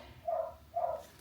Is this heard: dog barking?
yes